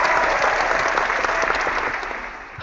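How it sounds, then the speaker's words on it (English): A live audience at a software theme release and anniversary celebration gives a steady round of applause, dense clapping at a consistent level that eases slightly toward the end. "let's give Clay a big round of applause, because obviously"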